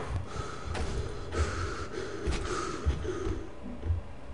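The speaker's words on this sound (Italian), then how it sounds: "Tutto è silenzio a parte i nostri ansimi." Panting breaths in The Last Door video game come as soft, rhythmic gasps over a dim ambient background, several breathy pulses repeating at a slow, even pace.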